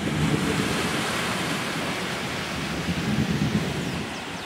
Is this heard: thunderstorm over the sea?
yes